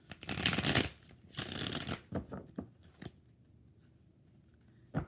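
Tarot cards riffle-shuffled by hand in several quick bursts, close and crisp, the last followed by lighter taps and a quiet pause.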